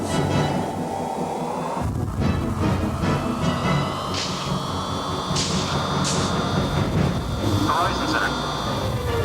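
Aircraft takeoff sound effect for a custom ride: a loud, steady jet roar with rising whining tones and swells, while voices talk over it.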